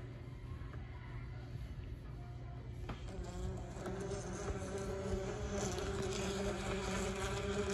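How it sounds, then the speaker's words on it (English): Continuous buzzing of a bee, low and droning, growing slightly louder and fuller as it seems to come nearer. "That's right. That's a bee."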